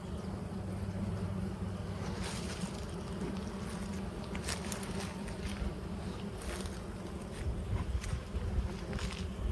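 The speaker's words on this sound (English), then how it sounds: "A lot of bees, isn't there?" Honeybees buzz densely and continuously close by while a hive is split into an Anel hive, a steady swarming drone with a few louder passes near the microphone.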